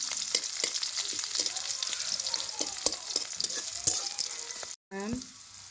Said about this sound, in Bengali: আমি তেল দিয়ে দিলাম। এর দিয়ে দিব পেঁয়াজ। পেঁয়াজটা ভালো করে নেড়ে চেড়ে নিব।